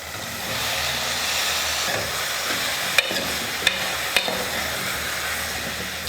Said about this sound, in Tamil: இப்போ இந்த முள்ளங்கி சேர்த்துக்கிறேன்